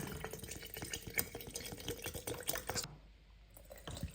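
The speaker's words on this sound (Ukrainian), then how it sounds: "Тепер заливаємо, наливаємо стільки води" Water gurgles and splashes steadily as it is poured into a container for homemade bread kvass, then stops abruptly before a brief final trickle. The sound is faint and close, with no talking.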